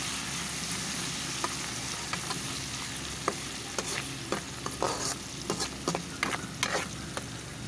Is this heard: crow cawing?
no